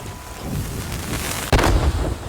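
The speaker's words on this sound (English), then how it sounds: "black powder, which is a small short fuse with a small explosion" A small black powder ammo explosion from the Sea of Thieves video game bursts out sharply near the middle over a steady windy, rumbling game ambience, with no talking.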